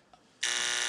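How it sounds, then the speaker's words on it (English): A trivia game timer buzzer blares suddenly after a brief faint blip, a loud, harsh, sustained electronic buzz that holds steadily to the end, heard alone. "I heard the buzzer."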